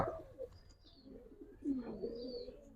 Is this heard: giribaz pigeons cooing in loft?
yes